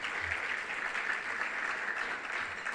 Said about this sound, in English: How about giving them a round of applause?